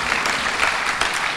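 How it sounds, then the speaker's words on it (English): A crowd at a hackathon closing ceremony applauding steadily, dense clapping at an even level throughout with no talking. "Let's give him a warm round of applause"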